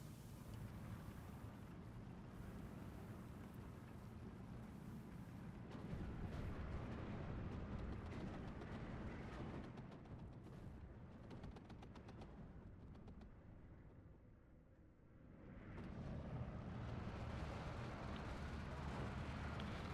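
Mortar fire and explosions in the WWII strategy game Steel Division 2, a dense, continuous rumble of blasts and gunfire with a brief dip near the end before the din swells again; no clear talk.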